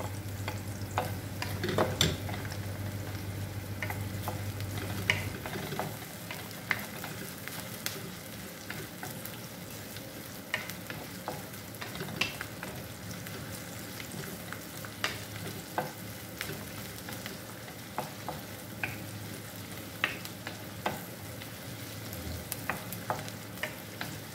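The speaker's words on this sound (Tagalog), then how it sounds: "Haluan ko ng dry na hipon." Dried shrimp stirred into bitter gourd frying in a pan, with a steady sizzle throughout and repeated scraping clicks from the stirring utensil, close and moderately loud, no talking.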